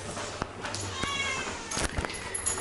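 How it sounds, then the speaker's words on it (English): Several faint meows from cats at a little distance, mixed with low background murmur and light movement noise. "We're going to go meet the kitties."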